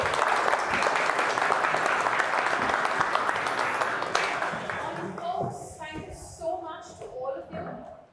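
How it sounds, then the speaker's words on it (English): An audience applauds a speaker invited onto the stage at a welcome event, sustained dense clapping for several seconds that thins out as a voice begins talking over the dying applause. "Round of applause."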